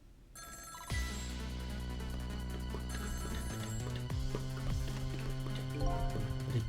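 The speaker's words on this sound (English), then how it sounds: "Every time that phone rings, it's bad news." A telephone rings in the video game Ghost Rick: Phantom Attorney 2, a bright, repeating electronic bell that starts after a short pause and keeps trilling loudly and steadily over a soft musical backdrop.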